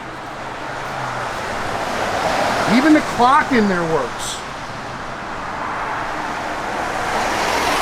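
Steady rain pours down around a 1969 AMC Javelin SST, a broad, even hiss that fills the whole stretch while someone talks briefly over it.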